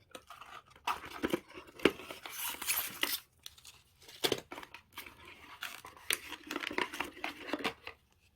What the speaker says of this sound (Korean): LED 조명 언박싱 해보겠습니다